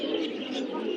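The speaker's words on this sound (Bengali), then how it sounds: "এটা গোলা কবুতর।" Pigeons at a busy pigeon market in Bangladesh coo close by, a brief throaty burble with a faint background murmur.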